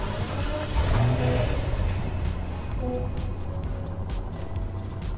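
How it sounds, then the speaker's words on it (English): Rolls Royce car engine starting up in the Roblox game Greenville, a steady low game-engine rumble with a brief swell near the start, heard through desktop audio with faint talk-like sounds over it. "We also have this video here of the startup."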